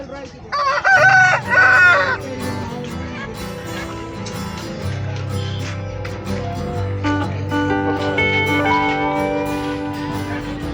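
Roosters and chickens at a bird section of Pallavaram Friday Market in Chennai, with loud near crowing early on, then clucking and market bustle under someone talking.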